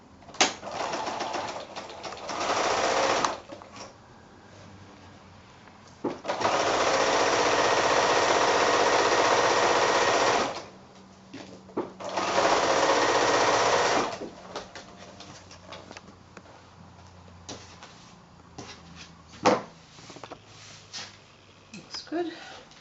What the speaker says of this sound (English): Back to the sewing machine.